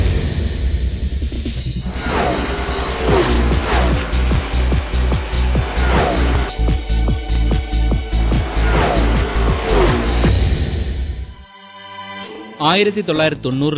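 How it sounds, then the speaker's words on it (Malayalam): A Hummer H3 drives on a road in Kerala, its engine rising and falling in repeated loud revving sweeps up close before the sound cuts off abruptly near the end. "ഫാസ്ട്രാക്കിൽ നമ്മൾ ഇന്ന് ടെസ്റ്റ് ഡ്രൈവ് ചെയ്യുന്നത് ഹമ്മറിൻ്റെ H3 എന്ന വെർഷനാണ്"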